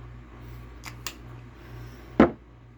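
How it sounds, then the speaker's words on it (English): A single close spritz of Dolce & Gabbana Light Blue perfume onto a hand: a short, sharp hiss over a low steady room hum, with two faint lighter clicks a moment before. "I spray it on this hand."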